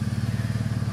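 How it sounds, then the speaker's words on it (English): An all-wheel drive 2007 Jeep with a failing muffler idles close by in a brief, loud, pulsing low rumble. "Listen to that muffler."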